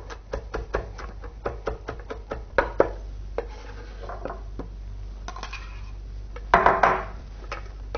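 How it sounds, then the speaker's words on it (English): Knife chopping soft sharon fruit (persimmon) pulp on a cooking surface, a quick series of close, light knocks in an uneven rhythm, then a short rustling burst near the end. "and use a knife to chop it."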